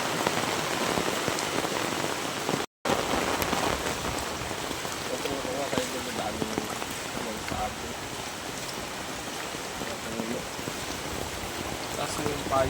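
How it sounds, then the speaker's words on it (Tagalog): Steady rain pours down in a banana field, a dense, continuous hiss of drops striking surfaces nearby, with a brief dropout early on and faint voices mixed in underneath. "Ito, nabutan pa kami ng ulan."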